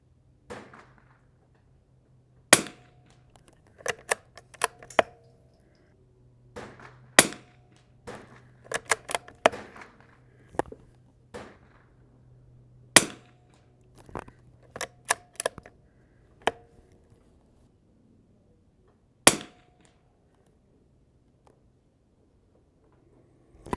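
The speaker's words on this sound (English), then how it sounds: "Five shots. Last two count for group on average." Single shots from a Winchester 52B rifle fired outdoors at a 100-yard target: sharp, isolated cracks spaced irregularly over about twenty seconds, some followed by faint clinks, against a low steady hum.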